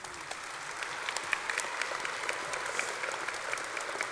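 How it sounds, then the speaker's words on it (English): A large commencement crowd applauds the graduating class in a steady, dense wash of clapping that holds at an even level throughout. "Please give them a round of applause."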